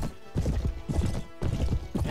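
Horse charging in a Mount and Blade: Warband battle, with rapid rhythmic hoofbeats pounding in repeated bursts, close and loud, with no talking.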